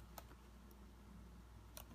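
Computer keyboard keys are tapped in a couple of isolated, faint, close clicks separated by quiet hum, with no voices.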